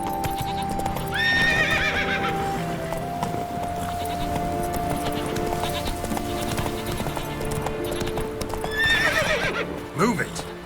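Geralt's horse Roach in The Witcher 3 game, hooves clip-clopping under music and ambience, with a whinny near the start and another toward the end, plus someone speaking briefly.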